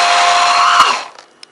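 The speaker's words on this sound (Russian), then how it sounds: "Сейчас сюда мы все положим. И блендером погружным собьем вкуснятину." An immersion blender whips raspberries with sugar, a loud steady whirring drone for about a second before cutting off, followed by faint clatter.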